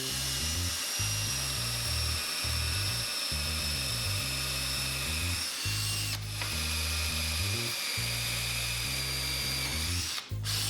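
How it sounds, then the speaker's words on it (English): A power drill fitted with a 15/64 inch bit bores holes into half-inch-wide wooden boards, running in steady close bursts with brief pauses near six and ten seconds. "I'm gonna drill these into longer boards."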